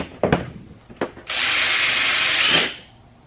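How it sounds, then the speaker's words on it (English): Two short knocks on a Miata body-kit front bumper give way to a power drill boring a hole in it, a loud steady whine lasting about a second and a half before winding down. "Now we can pull this off and drill it."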